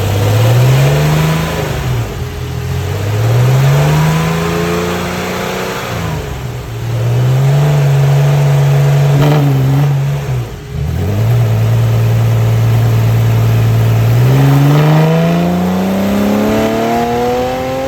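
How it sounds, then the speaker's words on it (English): A Porsche 964 engine revs hard through repeated pulls, its pitch climbing and dropping in long sweeps. Each run builds to a strained, loud howl before easing back, with no voices. "I wanted them to be able to hear my engine."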